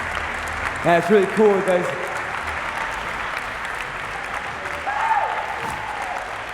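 A crowd at a freestyle trampoline championship keeps up steady applause throughout, a dense wash of clapping with cheers, while someone talks loudly over it through a PA.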